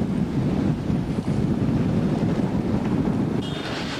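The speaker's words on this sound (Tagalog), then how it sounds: "lalong lumalakas ang ulan at bugso ng hangin" Strong typhoon wind gusts roar steadily and loudly, a dense, rumbling rush of air buffeting the microphone with no break.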